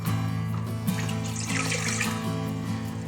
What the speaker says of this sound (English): In the pot, we're going to want to combine 2 cups of water,